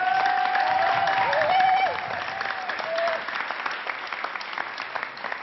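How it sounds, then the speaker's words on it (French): A studio audience applauds Jamel Debbouze on a 1993 Moroccan television show, a loud, dense wash of clapping that holds steady, then eases slightly and continues through to the end. "On l'applaudit encore."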